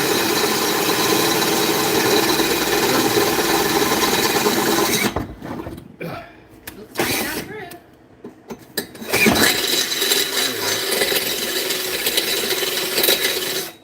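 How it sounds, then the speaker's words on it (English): A drill bores through thick metal lubricated with oil in a home garage, a loud steady grinding whine that cuts out midway, leaving clanks and shuffling before the drilling resumes. "if it's a thicker metal, then I'll use oil, just to keep the drill bit cool"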